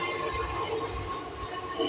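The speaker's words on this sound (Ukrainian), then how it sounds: "Тут такі от електрички такі." A suburban electric train rumbles along the rails, a steady low roar with faint clatter heard from on board.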